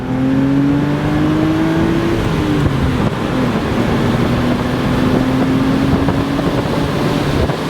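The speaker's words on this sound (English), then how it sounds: "Listen to the free revving of that engine." A BMW Z4 roadster's inline-six engine revs freely, the pitch rising and falling in smooth sweeps over steady rushing wind noise, loud and close throughout.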